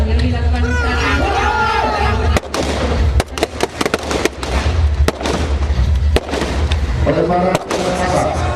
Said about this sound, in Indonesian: penembakan asap atau granat asap merupakan untuk tingkai perlindungan terhadap personil yang ada di lapangan